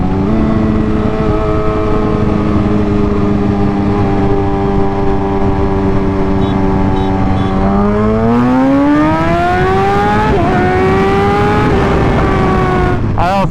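A Yamaha R1 sportbike engine roars steadily and loud up close, holding a constant drone before revving upward through rising pitch sweeps near the end.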